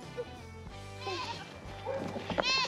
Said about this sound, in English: I think the goats want to follow us.